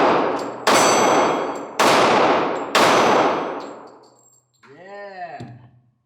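A Glock 23 Gen 5 pistol fires .40 Smith & Wesson rounds at an outdoor range, four loud sharp shots spaced about a second apart, each with a long ringing decay, followed by a short metallic clink.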